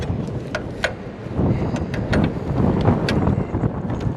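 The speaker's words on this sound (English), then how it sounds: "The freaking wind is so bad right now." Strong gusty wind buffeting the microphone outdoors beside a 2013 Ford F450 6.7 Powerstroke during fuel rail work, a loud rumbling roar with surging gusts and scattered sharp clicks and rattles throughout.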